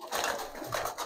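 Pet pigeons, including fancy breeds such as silver Lalpari and Bagha, coo in soft, rolling murmurs close by, with a couple of swelling phrases over the brief moment.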